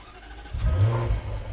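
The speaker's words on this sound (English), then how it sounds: "It's got a reputation for having a really good exhaust noise." A Jaguar car engine in sport mode gives a short rev with a deep exhaust note, a brief, fairly faint rise and fall with no talk.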